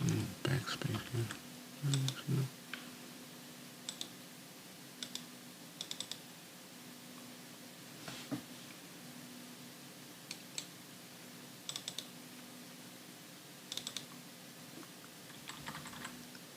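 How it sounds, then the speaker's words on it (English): Keys on a computer keyboard are pressed in sparse, sharp clicks and short bursts, close and distinct, over a quiet hum with a little talk near the start. "Let's see if I can do my backspace here."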